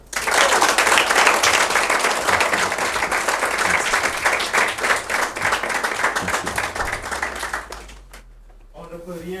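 A crowd at a graduation speech event applauds steadily and loudly, a dense wash of clapping that holds for about eight seconds before dropping off, followed by a brief voice.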